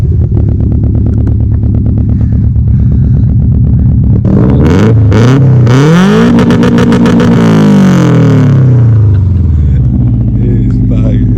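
A tuned Mitsubishi Evo 9 engine revs hard and bounces off the limiter, a loud close burst of rapid revving and stuttering cut-outs rising out of a lumpy idle, with a voice over the noise.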